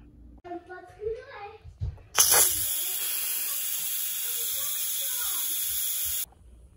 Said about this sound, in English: I'll just let the steam out and quick release the steam.